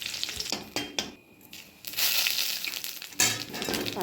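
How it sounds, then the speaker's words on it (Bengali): Dried red chillies sizzle in hot oil in a wok, a broad crackling hiss that rises and falls with short gaps and a few brief clinks, close and fairly loud. "আবার কড়ার মধ্যে তেল দিয়ে দিলাম, তারপর শুকনো লঙ্কা ছেড়ে দেবো।"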